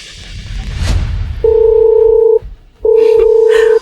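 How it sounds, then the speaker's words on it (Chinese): Telephone tones sound as a call is placed to a company's finance department: two long, steady electronic beeps, loud and close, separated by a short gap, with no talking. "我现在就给财务打电话"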